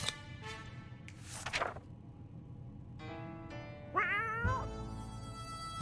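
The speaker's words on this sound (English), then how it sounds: "Oh, there's a cat." A cat meows several times in short, separate calls, one rising and wavering into a longer, strained yowl near the end, heard fairly close over a low background hum.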